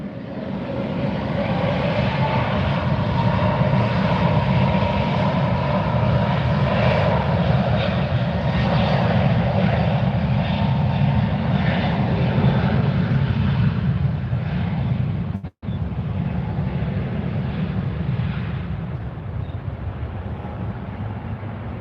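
A Douglas DC-3 propeller airliner takes off at Fort Lauderdale, its radial engines producing a loud, steady, rumbling drone that holds nearly constant throughout, with one brief dropout near the end.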